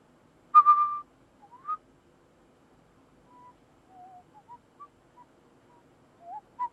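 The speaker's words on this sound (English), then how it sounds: "You can now hear a person whistling." Someone whistles a sparse, halting tune in the video game Frequency Missing: a few short, thin notes spaced out with silences between, fairly quiet and close.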